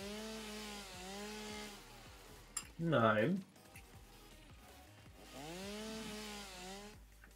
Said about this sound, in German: Kettensäge ist gerade alle geworden